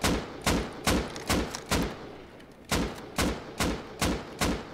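Rounds from an AK rifle in a shooting video game fire as loud, punchy single shots in a fairly regular rhythm, roughly nine in quick succession with a short gap midway, and no talking.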